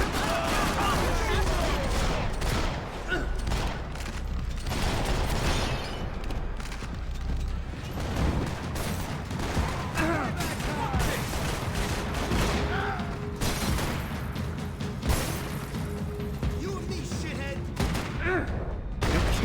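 Dense gunfire in Max Payne 3, with rapid shots and bursts crackling continuously over a loud, busy mix of game sounds and voices.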